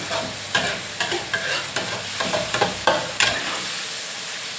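Soft tofu fries in a pan with a small amount of oil, giving a steady close sizzle broken by repeated scraping stirs from a utensil, with no talking.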